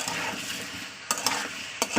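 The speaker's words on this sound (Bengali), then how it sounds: "আমি এটাকে কোনো মশলা এখনও দিইনি জাস্ট তেলের উপর ফ্রাই করে নিচ্ছি" Potatoes and vegetables frying in hot oil with no spices yet, giving a steady close sizzle broken by a few sharp spatula taps and stirring knocks.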